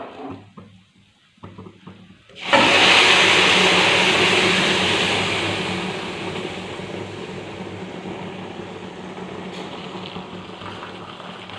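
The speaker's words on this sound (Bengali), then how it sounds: "এবার দুধটা ঢেলে দেব।" Milk poured into a pan of vermicelli being cooked, a sudden loud gushing pour that starts after a quiet moment, then settles into a steady, slowly fading sizzling wash of liquid.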